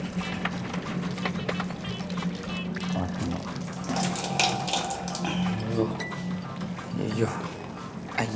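Water runs from a tap into a container in a continuous rushing splash lasting several seconds, with a voice speaking over it and scattered clatter close by.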